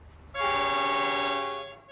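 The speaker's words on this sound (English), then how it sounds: "The first train to run on these tracks was a freight train from Wollongong." A freight train horn sounds at a country railway station: one steady, loud tonal blast lasting over a second, rich in harmonics, then fading away.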